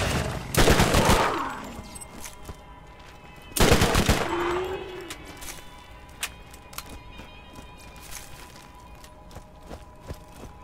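Loud gunfire bursts from the player's weapon in the video game Borderlands Remastered, two rapid volleys with a pause between them, followed by scattered quieter shots and clicks.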